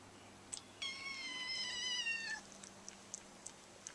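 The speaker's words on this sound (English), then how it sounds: "he's purring through the whole thing" A feral kitten being handled vocalizes with a soft, drawn-out meow, quiet and close, amid faint background hum and a few small ticks; the purring itself is barely evident.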